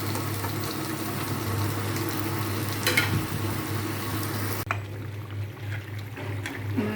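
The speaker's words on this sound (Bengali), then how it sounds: "মাংসটা কষানো হয়ে গেছে" Chicken frying in a pan with onion and meat spices, a steady close sizzle with a low hum running underneath and a brief scrape near the middle.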